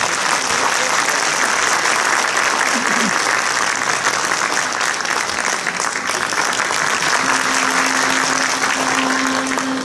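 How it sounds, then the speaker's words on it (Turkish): Steady, dense applause from a concert audience at a special KAREV performance fills the whole stretch, loud and continuous, with a faint sustained tone entering near the end. "Alkışlarınız Alparslan Öğüt için."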